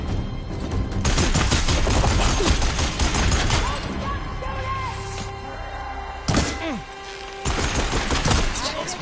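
Gunfire in the Horizon Forbidden West video game, loud rapid bursts of shots and heavy thuds filling the scene, with a brief lull and sharp impacts before firing resumes.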